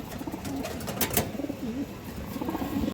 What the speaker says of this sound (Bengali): একটা পুরন জাতের মুসলদম কবুতর নর